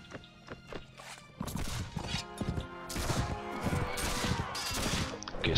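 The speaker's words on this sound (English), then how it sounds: "Horses." Horses in the game Mount & Blade With Fire & Sword pound along in a rapid, irregular clatter of hooves, building from faint to louder, with battle noise mixed in.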